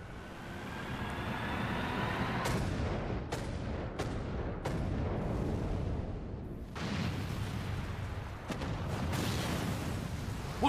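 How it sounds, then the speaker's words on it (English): Long-range artillery in the Final Fantasy XIV game booms repeatedly, with a string of sharp detonations spread across a constant roar of battle, loud and close, with no talk. "Long-range artillery!"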